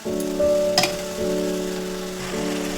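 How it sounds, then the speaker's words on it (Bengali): Spice masala fries and is stirred in a pan for a Bengali fish curry with long beans and potato, a close, continuous sizzle broken by brief scraping stirs, with a steady background hum. "ভালো করে মশলাটা কষাবো।"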